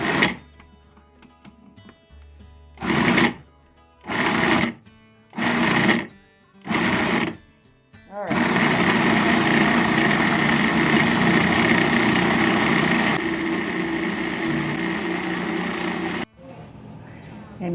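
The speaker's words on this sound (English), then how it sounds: "we are going to pulse it a few times just to get it blended a little bit, and then go on low for 1 to 2 minutes" A countertop blender roars in five short pulses, then runs continuously on low for several seconds with a steady, loud whir before cutting off, while ground meat and other ingredients for a carnivore recipe are mixed.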